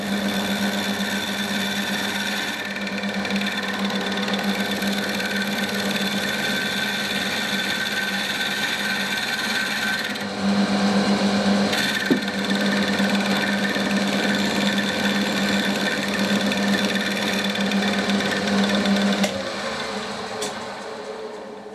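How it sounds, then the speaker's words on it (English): A milling machine cutting a weld off aluminium runs with a steady mechanical hum and whine for about twenty seconds, the tone shifting slightly partway through as the cut changes, close and without speech. "I'm just going to mill that little bit of weld off."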